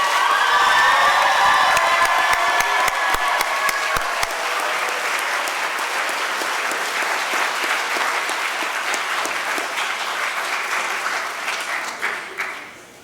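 Loud applause with cheering and whoops for students rising at a school awards ceremony, a dense roar that holds steady before tapering off into a few final claps.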